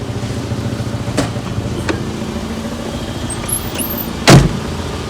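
A high-mileage 2004 VW Passat Estate with an exhaust blow idles in a steady low rumble, with a couple of light clicks and a sharp, loud thump near the end.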